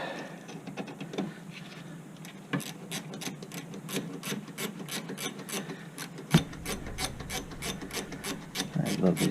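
Ratcheting wrench turning bolts during rear brake work on a Nissan Rogue, a steady run of quick close clicks that speeds into a dense rapid ratchet rhythm toward the end.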